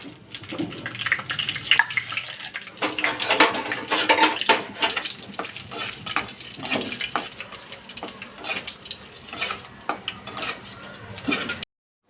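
Chillies fry in oil in a home kitchen, a steady sizzle mixed with frequent clinks and scrapes of a utensil against the pan, close and fairly loud, ending abruptly.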